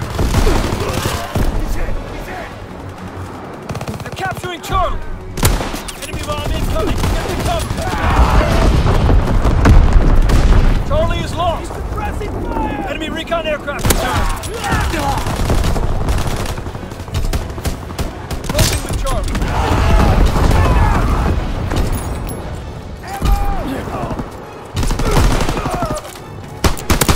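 An enemy bomb blast and sustained gunfire in Call of Duty WWII, a loud continuous battle din of rattling shots and booms that swells and fades over nearly half a minute, with shouted voices mixed in.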